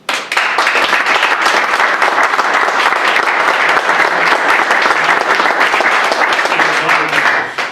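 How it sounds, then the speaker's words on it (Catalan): Loud, sustained applause from an audience at a tribute event for elderly men in Paterna, dense clapping filling the whole stretch and tapering slightly at the end. "donar-vos un aplaudiment"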